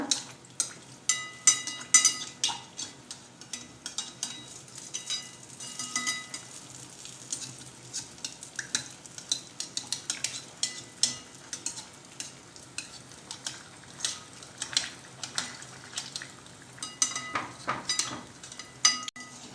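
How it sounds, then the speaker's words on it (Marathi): Dahi vada lentil fritters fry in oil over medium heat with a faint, continuous sizzle, broken by occasional light clinks and stirring sounds. "आता मीडियम गॅसवर हे तळून घेऊया"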